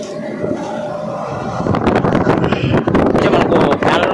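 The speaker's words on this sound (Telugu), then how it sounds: "మనకు ఫ్యాన్ల నుంచి గాలి అయితే వస్తుంటుంది" Air fans blow inside the Belum caves, giving a broad, rough rush of air that starts softer and then swells into a loud, steady roar with buffeting gusts.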